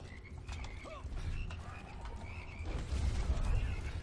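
Frogs croaking in the video game Immortal Redneck, several short croaks and chirps scattered over low rumbling game sounds and thuds that swell toward the end.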